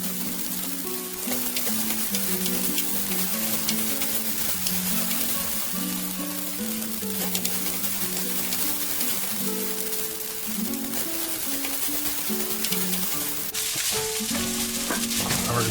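Rice frying with butter in a pan, a dense steady sizzle and crackle lasting throughout, close and continuous with no talk.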